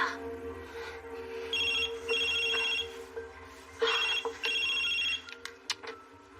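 A telephone rings in repeated electronic trilling bursts, about four rings with short gaps, moderately faint in a quiet room with a few soft knocks and rustles between them.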